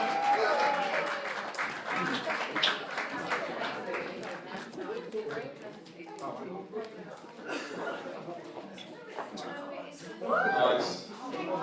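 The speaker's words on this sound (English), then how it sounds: "Round of applause, please." Wedding guests applaud the mother of the bride during the speeches, a scattered clapping that carries on for several seconds with chatter and light laughter mixed in.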